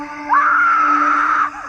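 A child screams into a doorbell camera at close range, one long sustained high-pitched shriek lasting over a second after a brief lead-in, loud and alone over a steady low background hum.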